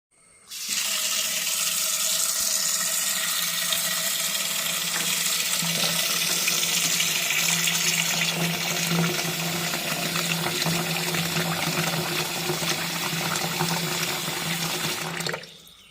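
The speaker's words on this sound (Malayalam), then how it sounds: "ഇവിടെ ചേമ്പ് തോരന് വേണ്ടി ഞാൻ അരിഞ്ഞു വെച്ചിട്ടുണ്ട് ഇതൊന്ന് കഴുകി വൃത്തിയാക്കി എടുക്കാം" Chopped taro (chembu) for a Kerala thoran is rinsed under running tap water: a loud, steady, continuous rush and splash of water for the whole stretch, with no talking.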